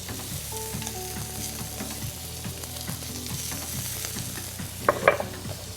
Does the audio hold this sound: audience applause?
no